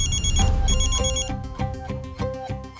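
A phone ringtone rings loud and close, a bright repeating melodic tone in quick rhythmic bursts with no talking over it.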